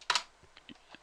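A few quick keystrokes tapped on a computer keyboard as a command is entered, one short burst of clacks followed by several lighter, spaced clicks, close and quiet with no talking.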